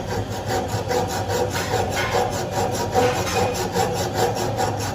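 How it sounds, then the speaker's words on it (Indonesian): A hand saw cuts into a metal hammer-head workpiece in a manufacturing lab, making a steady rasping scrape with regular back-and-forth strokes, close and continuous throughout. "sampai nanti si gergaji itu masuk ke benda kerja"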